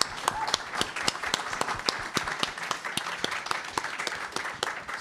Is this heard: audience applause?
yes